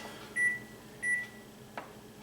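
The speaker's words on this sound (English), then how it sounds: "I need to set the timer." A 10-minute timer being set: two short, clear electronic beeps, evenly spaced, then a soft click against a steady background hum, with no talking.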